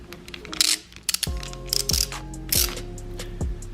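A ratchet clicks in quick bursts while snugging a bolt on a motorcycle lever mount of a DRZ, sharp close metallic ticks in several short runs with brief pauses between them.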